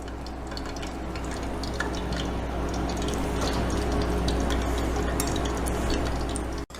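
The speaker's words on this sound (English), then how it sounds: "Frying them up." Steady crackling and sizzling of lobster fritters frying in hot oil, a continuous busy bubbling hiss over a low hum that cuts off abruptly at the end.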